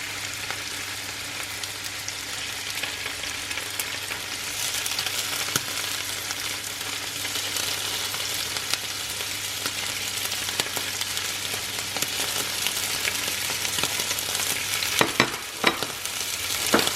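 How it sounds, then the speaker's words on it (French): Scallops searing in olive oil in a frying pan give a loud, constant close-up sizzle that holds steady throughout, with a few sharp clicks near the end. "j'ai mis de l'huile d'olive et je vais venir déposer mes Saint-Jacques dans ma poêle"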